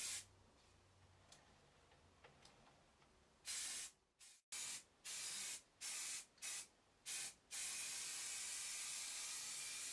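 Primer filler is sprayed onto a Moto Guzzi Le Mans 3 motorcycle part: a faint background hum, then a run of short sharp hissing bursts ending in one long continuous spray hiss.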